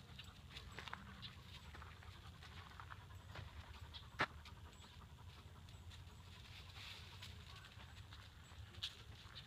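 A Japanese dog pants softly and rhythmically in a quiet outdoor setting, with a few faint clicks and light taps scattered through the steady breathing. No one talks.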